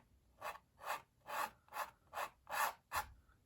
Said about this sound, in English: You can hear me scraping the canvas.